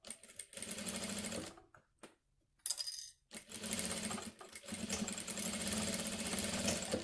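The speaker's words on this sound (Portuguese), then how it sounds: "Faço a costura toda." A sewing machine stitches a fabric notebook cover in steady mechanical bursts, stopping briefly twice before running on again at a close, even pace.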